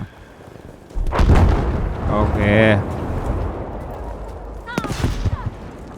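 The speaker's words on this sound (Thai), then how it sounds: "ระเบิดมาลง" Heavy explosive booms from dropped bombs in Battlefield V rumble loudly under excited voices, a deep blast followed by crackling debris and further bursts.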